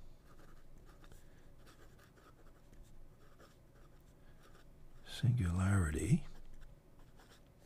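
A Mnemosyne stub-nib fountain pen scratches softly across paper in faint, quiet strokes, with a brief spoken word partway through.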